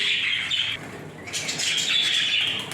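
Jumbo quail chicks in a brooder peck at freshly scattered feed, giving a steady stream of soft high chirps and light scratchy rustling, close by with no talk.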